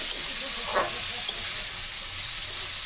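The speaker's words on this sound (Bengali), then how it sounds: "আর এখানে দেখো রান্না হচ্ছে, এখানে রান্না হচ্ছে বরবটি আলু ভাজা" Yardlong beans and potatoes fry in a pan with a steady, close sizzling hiss and a few brief stirring sounds.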